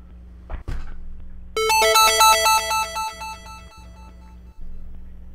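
A MobiLinc iPhone app notification alert, triggered by noise in a garage, sounds as a loud run of bright, stacked electronic chime tones lasting several seconds after a couple of brief knocks.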